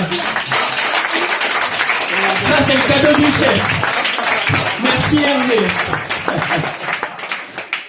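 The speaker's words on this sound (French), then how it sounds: "On peut les applaudir." A nightclub audience at a hypnosis show applauds two volunteers, a moderate round of clapping running under a man's speech and tapering off toward the end.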